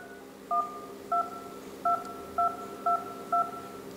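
Touch-tone dialing beeps from a Zoiper softphone: six short dual-tone keypresses spaced irregularly across a few seconds, clear and isolated over a faint steady hum, with no talking.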